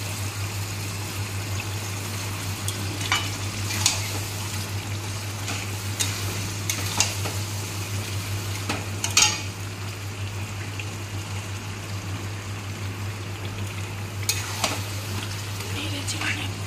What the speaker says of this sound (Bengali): দই মাখানো চিকেন এবার ছেড়ে দিলাম